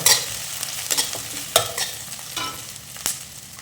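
Curry leaves fry in hot oil for lemon rice with a close, steady sizzle, broken by a few sharp scrapes and knocks from stirring.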